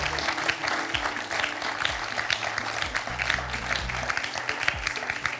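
A TV quiz show studio audience applauds contestant Jean-Baptiste with sustained, even clapping from many hands, fairly close and continuous for several seconds.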